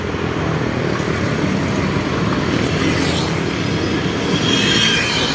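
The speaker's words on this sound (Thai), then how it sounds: "รถไฟลอยฟ้ากำลังมา" An elevated skytrain passes on a Bangkok street near Min Buri on a winter morning, giving a steady, loud rolling rumble with a faint wheel squeal and rising whine toward the end, with no talk.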